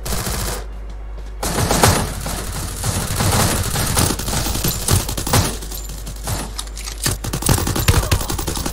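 Rapid, dense gunfire in the Free Fire mobile game played on a PC emulator, a near-continuous burst of loud shots lasting several seconds with only a short gap near the start.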